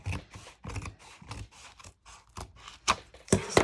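Large scissors cut through the spine of a poetry journal, breaking a blue seal. Repeated crisp snipping and crunching comes close up in irregular bursts, louder near the end, with no talk.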